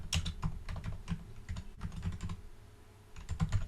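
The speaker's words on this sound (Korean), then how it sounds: "윈도우즈 R키 누르고 CMD 엔터" Short run of computer keyboard key presses for a Windows+R shortcut, then typed letters and Enter, a quick cluster of crisp close clicks with a brief pause before the final taps.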